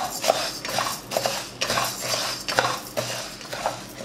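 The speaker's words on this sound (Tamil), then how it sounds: "இந்த உளுந்தை நம்ம வறுத்துக்கலாம்" A spatula scrapes and taps against a pan while urad dal is dry-roasted, with rhythmic close stirring strokes repeating about every half second.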